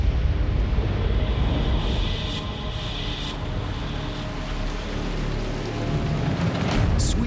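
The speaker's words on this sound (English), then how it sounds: "The rain falls hard here." Heavy rain pours down in Death Valley, a dense, continuous hiss with a rushing, wind-like wash that stays steady throughout, without any talking.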